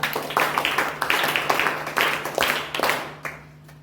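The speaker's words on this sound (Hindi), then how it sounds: "एक बार सभी वक्ताओं के लिए जोरदार तालियां" Audience applause for the speakers at a weekly discussion gathering, a run of clustered hand claps with a steady rhythm, close and fairly loud, fading out at the end.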